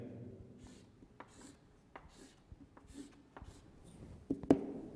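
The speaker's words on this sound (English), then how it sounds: "let me write it here" Someone writing on paper while working a chemistry problem, with soft scratchy pen strokes in short bursts, quiet and close, and a few sharper taps toward the end.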